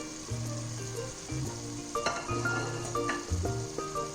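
Fried onions are being roasted in a pan with mutton keema, giving a steady sizzle and frying hiss. Intermittent scraping stir strokes and light clinks of a utensil against the pan recur every second or so, close and fairly quiet.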